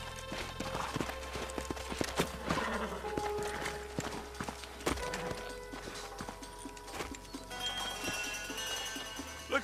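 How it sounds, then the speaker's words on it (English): Horses' hooves clip-clop in the Western video game Red Dead Redemption, a steady walking rhythm of hoof falls mixed with game ambience and scattered louder knocks, moderately close and continuous through the stretch. "Let's hold up a minute and find a spot for our horses."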